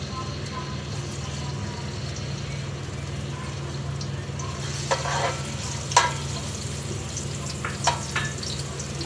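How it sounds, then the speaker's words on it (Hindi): Ginger fries in about half a cup of hot oil in a metal pot, a steady sizzle under a constant low hum, with a few brief stirring clinks and scrapes near the end. "अदरक को हल्का सा फ्राई कर लेंगे"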